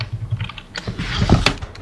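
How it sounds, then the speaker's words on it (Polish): Another player hammering hard on a computer keyboard during a voice chat, a quick irregular clatter of keystrokes with a few louder thumping presses, fairly close. "Spajki, nie napieprzaj tak tą klawiaturę"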